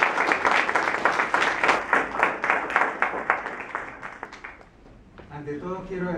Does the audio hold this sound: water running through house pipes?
no